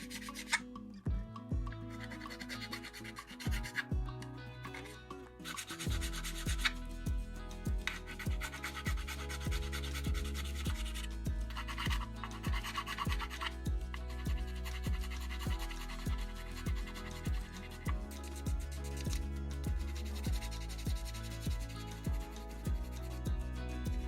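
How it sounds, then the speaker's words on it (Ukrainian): Needle files roughly rasping over the plastic parts of a SKIF T-64BV tank scale model, a steady run of close, repeated scraping strokes in an even back-and-forth rhythm with no talking. "Вони грубше працюють та дряпають пластик, але суперово підходять для грубого шліфування."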